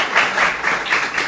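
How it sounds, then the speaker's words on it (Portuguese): Applause for a professor during a podcast recording, a short burst of steady clapping from a small group, fairly loud and close with no talking over it. "Peço já, uma salva de palmas para o professor."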